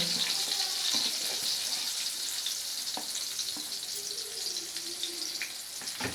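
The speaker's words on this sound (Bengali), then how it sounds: "একদম ছোট্ট ছোট্ট করে এই বেগুনগুলো আগে একটু ভেজে নেব নুন হলুদ মাখিয়ে রেখেছি দিয়ে দিলাম" Small pieces of eggplant coated in salt and turmeric fry in hot oil in a kitchen, giving a steady bright sizzle throughout with a few soft clinks and stirring sounds, and no talking.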